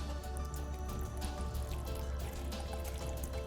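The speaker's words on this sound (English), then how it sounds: "So therefore, I'm going to pour a little in this glass," Isopropyl alcohol being poured into a glass during cream soap making, a steady continuous liquid pour with trickling and dripping, close and fairly loud, with no talking.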